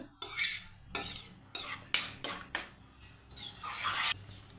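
A spoon stirs atukula payasam with ghee in a pot, with several scraping, clinking strokes that come in short bursts with brief pauses between them, moderately close.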